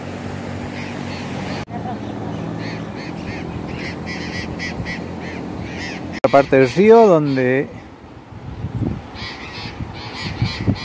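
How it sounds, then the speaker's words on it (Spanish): Flock of parrots squawking beside a river near a small waterfall and bathing spot at Dique La Huertita, San Luis; a burst of loud harsh calls rises mid-clip over rushing water, with someone talking before and after. "mira los loros, hay cualquier cantidad de loros."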